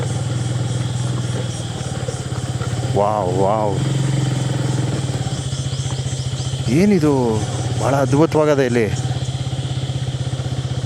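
A motorcycle engine idles steadily at close range at Bhadra dam, a continuous low throbbing hum under a man's excited speech.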